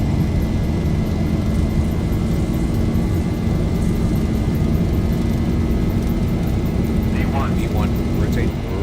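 Boeing 737-800 jet engines spool at takeoff power in the X-Plane 11 flight simulator, a loud steady roar filling the clip with a brief rising whine near the end.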